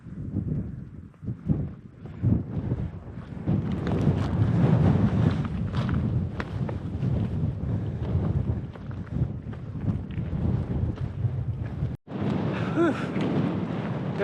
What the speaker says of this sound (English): Definitely windy